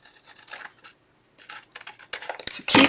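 Scissors snip through paper for a rodeo-themed junk journal tag, several short crisp cuts in quick bursts, close and alone with a louder final snip.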